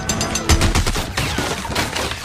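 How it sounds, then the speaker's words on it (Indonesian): A Gatling gun fires rapid bursts in a cowboy film scene, loud, dense cracking shots running almost continuously with no talk. "ternyata adalah Gatling gun, yang merupakan senjata berat yang bisa menembakkan banyak peluru dalam satu waktu"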